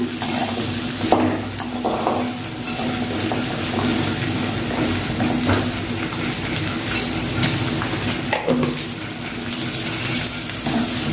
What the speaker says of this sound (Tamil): வெங்காயம், வெள்ளைப்பூடு நல்லா வதங்கினதுக்கப்புறமா